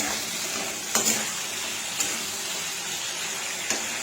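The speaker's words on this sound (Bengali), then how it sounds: "এবার আমার পেস্ট করাটা কড়াইয়ে তেলের মধ্যে দিয়ে দিলাম" Onion, chilli and garlic paste fries in hot oil in a wok, giving a continuous bright sizzle with three sharp spatula knocks against the pan, no voices.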